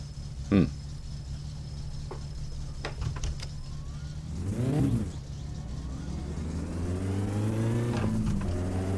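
Car engine fitted with nitrous oxide running on a dyno in the game My Summer Car, a steady mid-pitched drone that rises and falls in revs, with a short sweep near the middle and a climbing rev toward the end, under brief talk.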